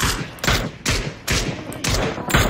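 Rapid bursts of gunfire from PUBG, the battle royale shooter, come in about six loud, evenly spaced volleys with sharp onsets, close and dominant over faint background game noise.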